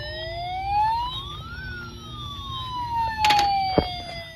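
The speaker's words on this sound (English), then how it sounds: "Ambulance." An ambulance siren wails with rising and falling tones, loud and near, alongside overlapping sweeping siren tones and a few sharp clicks, with no voices.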